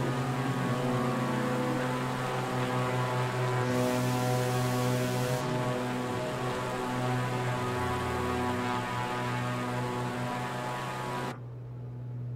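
A propeller aircraft engine runs at half throttle in a flight simulator, a steady droning hum with a strong even tone that shifts slightly midway, then drops in level near the end, heard alone.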